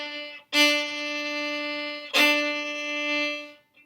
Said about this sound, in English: So I'm just going to play on an open string